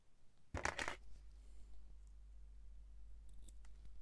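Scissors make a short, close snip through a piece of paper being trimmed to wrap a specimen slide. A low steady hum follows in an otherwise quiet room.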